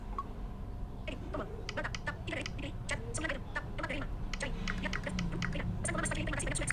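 Rapid taps on a phone screen while composing a WhatsApp message come as a quick, irregular run of light clicks, close and fairly quiet, continuing steadily throughout.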